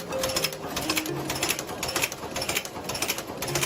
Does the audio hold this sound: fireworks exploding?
no